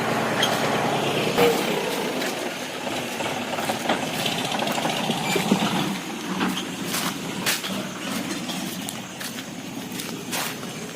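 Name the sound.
tractor engine running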